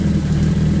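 A Suzuki GS1000 motorcycle engine holds a steady idle around 1800 RPM during carburettor synchronisation, a loud, even low-pitched rumble heard up close with no break.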